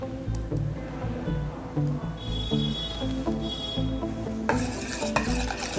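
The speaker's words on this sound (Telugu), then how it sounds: "ఇలా మంచిగా కలపాలి. ఇందులోనే ఒక స్పూన్ అండి కర్డ్" A spoon stirs a homemade tan removal face pack with a spoonful of curd in a small bowl, giving repeated close clinks and soft scraping taps in an uneven rhythm against a faint steady background tone.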